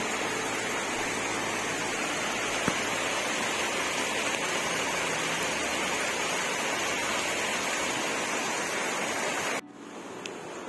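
Heavy morning rain pours over a housing society in a dense, continuous loud roar of falling water, cutting off abruptly near the end.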